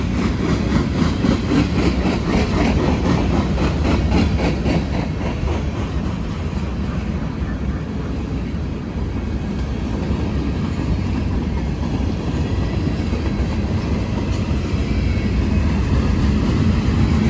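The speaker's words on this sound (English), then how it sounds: "the train of the night and probably the train of the year is ready to come on through here" A Norfolk Southern freight train with Union Pacific 6706 trailing rumbles past in Gaffney, South Carolina, steadily with a deep, heavy roar and rhythmic rail clatter, loud and close throughout, with no talking.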